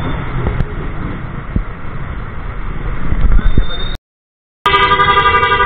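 Vehicles, tricycles among them, honk in stop-and-go street traffic: a steady traffic din with a voice talking over it, then a short cutout and a loud, sustained horn blast close by.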